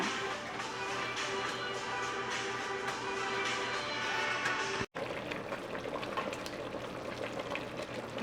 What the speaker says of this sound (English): Okay, let's cover that up. We'll simmer it until tender.